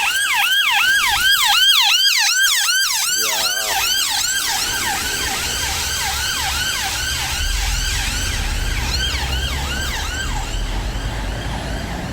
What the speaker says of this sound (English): Right, so we've got the ambulance coming.